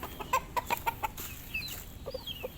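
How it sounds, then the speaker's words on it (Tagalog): A large chicken clucks in a series of short, sharp calls close by, followed by a few softer clucks and faint chirps in the background. "Pakalaking manok. Yan ang pinadadami ko ngayon."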